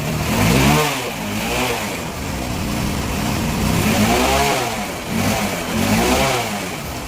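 A Honda Unicorn motorcycle with a worn, smoking engine runs close by, its mid-pitched engine note rising and falling in repeated revs over an uneven idle, loud and continuous.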